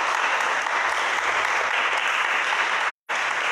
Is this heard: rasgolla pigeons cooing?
no